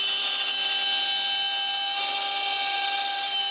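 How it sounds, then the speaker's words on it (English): A CNC router's end mill cuts through a wood board in a workshop, giving a loud, steady high-pitched whine with a few sustained tones, continuous throughout with no talking. "Then I put back the end mill and finish all the remaining cuts."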